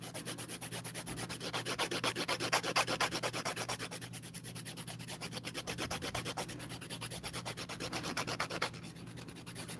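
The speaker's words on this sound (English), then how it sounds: "I'm moving my hand as I'm filing the nails" Hand file rasping steadily across acrylic nails during shaping, a continuous close scratchy rubbing with quick back-and-forth strokes, alone and without talk.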